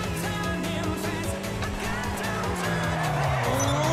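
A car drifts in GTA Online, its engine droning loud and steady while the tires squeal continuously through the slide, with a voice talking over part of it.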